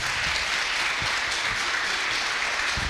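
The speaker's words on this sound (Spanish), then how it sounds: "Denle un fuerte aplauso al Señor." A church congregation applauds steadily, a dense, continuous wash of clapping that holds at an even level throughout, with no speech over it.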